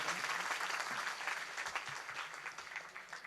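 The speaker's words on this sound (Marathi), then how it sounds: "जोरदार टाळ्या वाजवून सत्कार करा त्यांचा." An audience at a kirtan gathering in Balapur, Sambhajinagar, claps loudly and continuously in a dense burst of applause.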